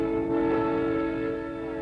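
A Southern Pacific freight train sounds a sustained steady horn chord, loud and fairly near, with rail rumble beneath and no talking, recorded in 1973.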